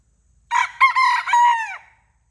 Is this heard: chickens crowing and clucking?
yes